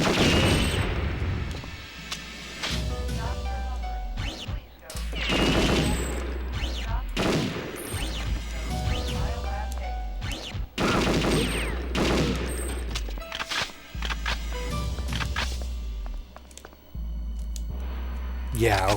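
Gunfire in the video game Perfect Dark, with repeated loud bursts and booming shots scattered throughout, over game music and effects, while a voice talks intermittently.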